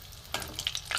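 A breaded vegetable chop fries in a wok of hot oil, crackling and spitting sharply from water in the mixture, in a brief close burst of pops over a low sizzle.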